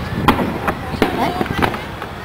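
Fourth of July fireworks burst in several sharp, booming explosions spaced irregularly, some crackling, with people chatting excitedly in between.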